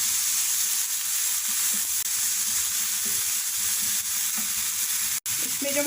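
Garlic-ginger paste and green chili paste being mixed in a hot pan, giving a loud, steady hiss of frying with one sharp knock near the end and no voices.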